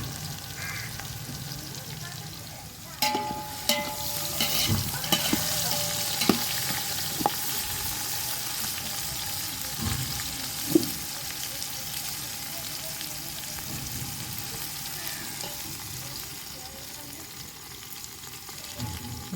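Onion with ginger garlic paste sizzles steadily in a pan for biryani, with scraping stirs and occasional clanks of a spoon against the vessel, close and continuous.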